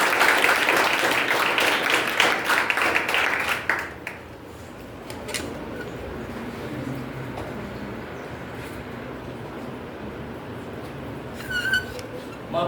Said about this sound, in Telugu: లేచి నిలబడి క్లాప్స్ కొట్టాలని చెప్పి